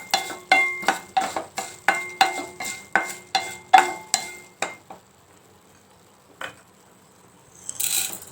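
Fenugreek seeds roasting in a pan for Kerala vulli theeyal: a steady run of about a dozen evenly spaced, loud clinking scrapes as they are stirred, then a pause with a single clink and a soft hiss at the end.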